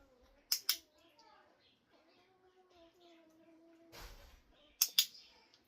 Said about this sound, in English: all I'm doing is clicking and then letting her have some as soon as I click